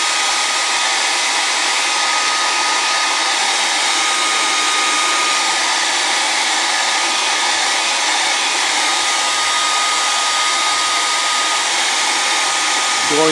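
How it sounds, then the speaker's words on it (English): A hair dryer blows steadily and loudly at close range, drying a puppet head on a work table, with an even broadband rush that holds unbroken throughout and no talking. "Shoot this with the hair dryer."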